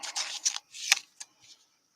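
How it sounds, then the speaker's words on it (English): A few dice tumble and clatter onto a surface during a sports card break, a burst of sharp rattling clicks followed by a couple of smaller bounces settling into quiet. "And then we got a dice drop here."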